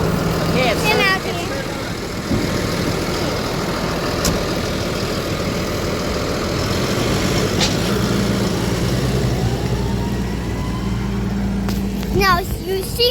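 A big farm tractor engine runs steadily at close range, a continuous low rumble holding through the whole stretch while a person talks over it.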